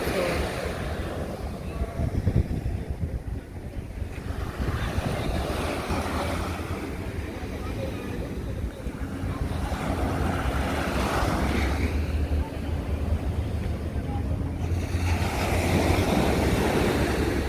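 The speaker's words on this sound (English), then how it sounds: "we're at Flavours Beach, Runaway Bay." Ocean waves wash ashore at a beach in Runaway Bay, St. Ann, Jamaica, as a loud, continuous surf roar that swells and recedes, mixed with wind rushing over the microphone.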